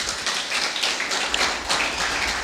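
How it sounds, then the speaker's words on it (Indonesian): Church congregation clapping hands during a service, a dense, continuous wash of claps without pauses. "Tepuk tangan buat Tuhan Yesus Kristus."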